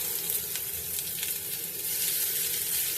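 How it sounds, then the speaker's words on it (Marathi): Thinly sliced onion frying in a pan with roasted whole spices gives a steady, close, hissing sizzle with a faint stirring texture throughout, and there is no talking. "आता इथे हा बारीक उभा चिरलेला जो कांदा आहे तो आपण यात टाकणार आहोत"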